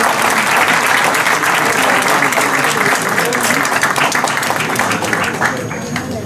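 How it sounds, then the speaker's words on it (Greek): A large crowd at a Pancretan political candidate presentation applauds loudly and continuously, many hands clapping in a thick sustained roar that eases slightly near the end. "Χειροκροτήστε τους"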